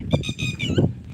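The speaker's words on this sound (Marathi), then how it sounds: "बघा मित्र कसं पक्ष्यांचे आवाज येत आहेत छानपैकी" Birds chirp and warble in short bright phrases above a low outdoor rumble, fairly close and lively.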